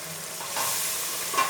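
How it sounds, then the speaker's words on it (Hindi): Fried onions being stirred into a sizzling potato and eggplant curry, a brief close scrape over a constant hiss of frying with no talking. "और साथ ही हम डाल देंगे जो हमने प्याज भी फ्राई करके रखा था ना"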